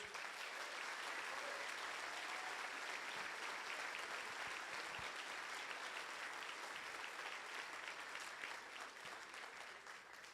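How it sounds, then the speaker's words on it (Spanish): Audience at a Spanish-language panel discussion giving the panelists a long, steady round of applause, dense even clapping lasting about ten seconds at fairly low level. "Por favor, un fuerte aplauso para ellos."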